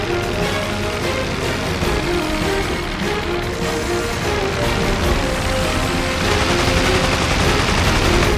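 WWI fighter aircraft machine guns fire continuously in the Rise of Flight dogfight game, a dense, loud, unbroken rattle of rapid gunfire over engine drone that runs throughout.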